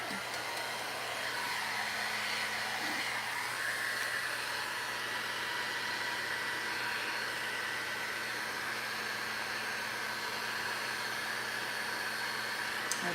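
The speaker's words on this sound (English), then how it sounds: "let's hit this with the heat gun" A heat gun drying freshly applied furniture paint blows a steady, even whoosh of hot air close by, continuous from start to finish with no talk over it.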